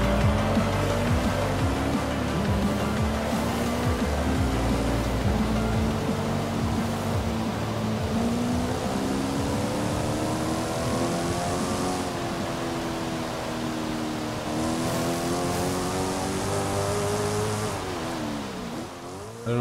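A modified car in Forza Horizon 5 on a test drive: a steady, loud engine note whose pitch climbs and drops repeatedly with throttle and gear changes, with road and tyre noise underneath.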